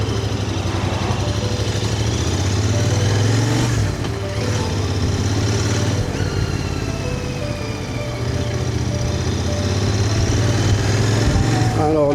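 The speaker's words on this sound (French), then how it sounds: "Là, je roule que sur des départementales." A Mash Soltana motorcycle on Michelin Classic Road tyres cruises along country roads, its light engine humming steadily up close with slight shifts in pitch and wind noise throughout.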